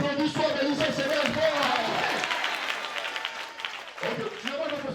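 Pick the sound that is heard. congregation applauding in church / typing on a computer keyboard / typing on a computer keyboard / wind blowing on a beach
congregation applauding in church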